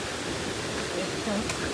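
Running water in a forest in Vanni near Vavuniya, Sri Lanka, a steady broadband rush that stays even throughout, with a voice faintly audible underneath.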